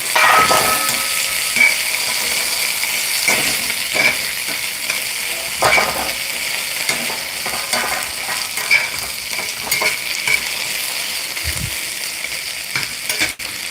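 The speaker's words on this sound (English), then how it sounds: "it's time to give this a stir" Hash browns fry loudly in a pan, with continuous close crackling and sizzling. Repeated scraping and stirring strokes from a utensil run through the whole stretch, and no one speaks.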